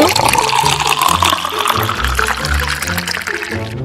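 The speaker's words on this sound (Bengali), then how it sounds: "এখন আমি এটার মধ্যে স্পিড ঢেলে দেব।" Speed energy drink pours into a container of ice-cold drink with a steady liquid splash and fill, loud and close, running continuously throughout.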